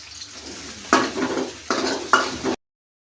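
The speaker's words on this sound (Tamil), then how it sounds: "சின்ன வெங்காயம் போட்டு நல்லா கிளறி விடுங்க." Small onions stirred in hot oil for an eggplant curry, with short bursts of scraping and sizzling from a spoon working the pan, three clear strokes that stop abruptly before a brief silence.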